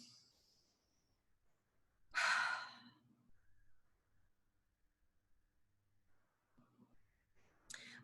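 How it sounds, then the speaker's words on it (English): One deep breath during a tapping exercise: a strong, close inhale or sigh of about a second, then quiet, with a shorter breath near the end. "take a deep breath"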